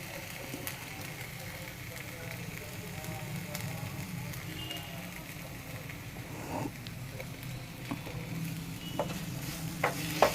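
Cream being stirred into a mixed vegetable gravy in a pan, a quiet continuous simmer and soft stirring scrapes with a few light utensil knocks toward the end, close but low in level.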